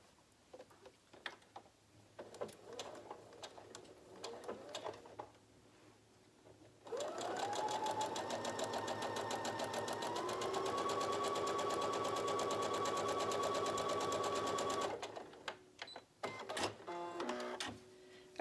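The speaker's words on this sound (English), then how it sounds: "I'm just going to sew a scant 1/4 inch seam on the" A sewing machine sews a scant quarter-inch seam along the top of a fabric surgical mask in one steady run of about eight seconds, with the motor whine rising slightly in pitch. Quiet handling sounds come before and after.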